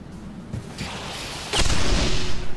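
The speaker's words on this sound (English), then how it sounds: "Explosion." A game explosion in Bridge Constructor Portal bursts in as a sudden loud blast with a whooshing rush, after a quieter stretch of mechanical rumble and small knocks.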